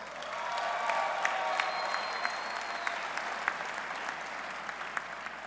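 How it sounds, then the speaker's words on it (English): Sustained applause from a crowd at an introductory college football coaching press conference, a dense, even wash of clapping lasting throughout with a few sharper individual claps standing out, fairly distant in a large room. "Give yourselves a round of applause."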